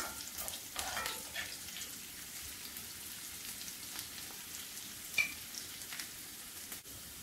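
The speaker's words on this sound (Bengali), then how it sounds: "কাঁচামরিচ পেঁয়াজ রসুনের সঙ্গে ভেজে নেব।" Green chillies fry in a pan with onion and garlic, making a soft, steady sizzle with a few light stirring clicks and one sharper tap.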